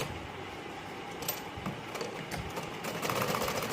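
A sewing machine stitches a blouse hem, a quiet, rapid mechanical whirr running continuously for a few seconds, close but faint.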